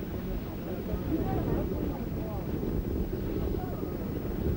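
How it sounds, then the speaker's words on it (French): Gusty wind at a land-sailing race on the coast buffets the microphone with a low, continuous rumble, and faint voices murmur beneath it. "maintenant le vent s'est levé"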